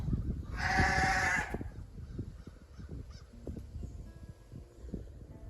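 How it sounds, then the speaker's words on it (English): A lamb bleats once, loud and wavering, for about a second, then quieter background noise with scattered knocks and rustles follows. "They can hear the lambs going off, and that brings them all up."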